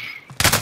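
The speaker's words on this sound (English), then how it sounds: "that's you shooting" A short, loud burst of rapid gunfire from a video game shooter cuts in abruptly after a faint, quieter moment.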